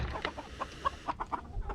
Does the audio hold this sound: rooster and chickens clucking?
yes